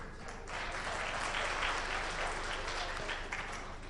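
An audience at a birthday celebration for Muhammad Ali Jinnah breaks into loud, dense applause, building quickly and sustaining for several seconds before easing slightly.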